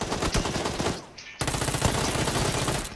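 Sustained Uzi gunfire in a video game, rapid automatic bursts fired close and loud, with a short pause before the shooting resumes and continues to the end.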